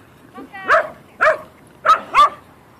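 A Dalmatian barks four times in short, fairly close bursts, two spaced apart and then a quick pair, with quiet pauses in between.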